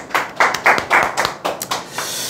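A small group claps briefly in a room during a class, a few irregular bursts of hand claps, close and fairly loud, fading after about two seconds.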